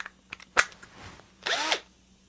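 A power drill spins a quick-change sanding disc holder during woodturning, giving a short whir, then a louder burst of sanding or spinning noise near the end, close by and with no talk.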